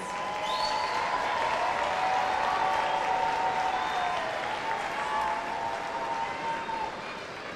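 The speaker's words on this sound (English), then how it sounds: "graduates, I invite you to turn and applaud your parents, families, and friends who have supported you throughout the years" Graduates at a commencement ceremony applaud for their families in a steady, dense wash of clapping that fills a large hall, with whoops and whistles rising over it and no talking.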